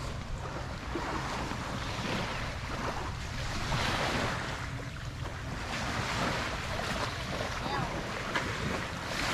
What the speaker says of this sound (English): But here's the beach.